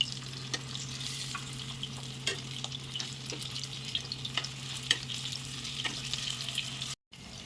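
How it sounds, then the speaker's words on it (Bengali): Stuffed bitter gourds fry in hot oil in a pan, giving a steady, even sizzle with occasional soft crackles and stirring clicks. It runs continuously and fairly close, with no talking, and cuts out briefly near the end. "এবার স্টাফিং করা ভাত কেরালাগুলো আমি তেলে দিয়ে দিচ্ছি।"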